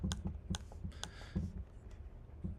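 Keys on a computer keyboard are tapped in short irregular bursts, a few distinct clicks close by against a quiet room background.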